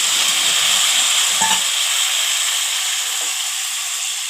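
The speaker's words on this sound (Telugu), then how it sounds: "ఇక వాటర్ కూడా వేస్తున్నాను." Continuous sizzling and frying hiss as water is added to a hot pan with tomato paste for mango chicken curry, with a brief clunk of stirring partway through; no voices.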